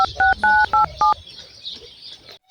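A run of five telephone keypad dialing tones, even dual-pitched beeps in a quick steady rhythm, loud and close, followed by a quiet room hiss.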